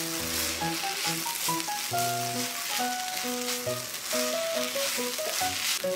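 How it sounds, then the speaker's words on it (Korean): Seaweed stems stir-fried in a hot pan after a spoonful of tuna sauce and cooking wine go in, with a steady bright sizzle and repeated scraping and clinking of a utensil against the pan, loud and close with no talking. "참치액 한 숟가락과 맛술 한 숟가락을 넣고 잘 볶아주세요"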